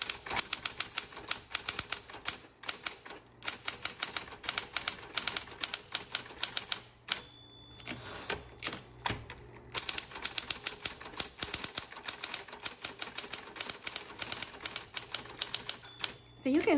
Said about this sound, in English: let's go ahead and keep typing